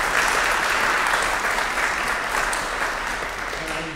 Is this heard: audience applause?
yes